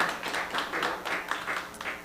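Scattered applause from a small open mic story night crowd, a steady patter of hand claps lasting a couple of seconds at moderate distance, with no voices over it.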